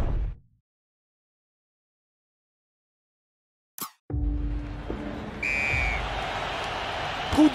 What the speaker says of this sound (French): Coup de sifflet qui marque le début de la seconde mi-temps.